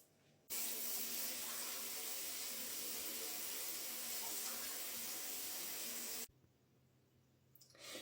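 Water sprays loudly and steadily from a shower head for about six seconds, close to the microphone, then cuts off abruptly, leaving quiet room tone.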